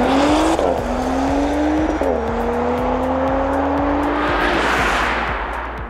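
An Audi RS5 Sportback and an e-tron GT launch in a drag race, a loud close engine climbing through gear shifts with rising whine and rushing noise as the cars pull away.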